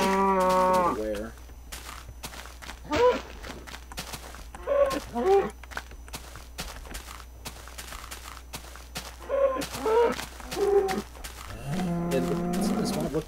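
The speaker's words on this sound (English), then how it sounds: "Gonna smack these cows and take their flesh" Minecraft cows moo repeatedly in a blocky hillside game world, several drawn-out bovine calls in sequence with short pauses between, over soft footstep sounds and a low background hum.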